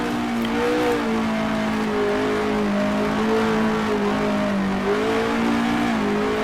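A race car lapping a circuit holds a loud, steady engine drone close by, its pitch rising and dipping slightly as it moves through the gears.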